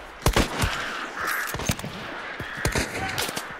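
Several sharp gunshots in Hunt: Showdown, near and loud, crack in quick irregular succession over quiet game ambience.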